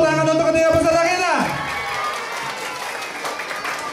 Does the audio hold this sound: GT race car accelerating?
no